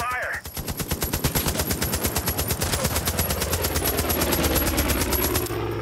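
Rapid automatic gunfire from a Far Cry 5 firefight, a dense, sustained burst of loud shots in a fast steady rhythm with continuous reverberant background rumble, no speech.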